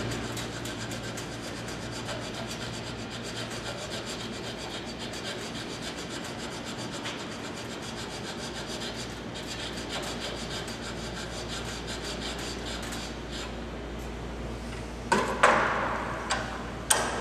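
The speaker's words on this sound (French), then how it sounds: "limage à trait tiré" A fine-tooth file draw-filing a metal drill gauge piece, steady continuous rasping strokes with a low background hum, ending in a few louder scraping hits.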